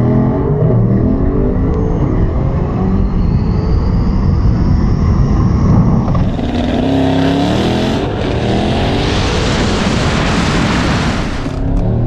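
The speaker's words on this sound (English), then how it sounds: "He's doing another burnout apparently. Here he comes." A car doing a burnout at an eighth-mile drag strip gives a loud, sustained engine roar that swells and builds toward the end, with no voices over it.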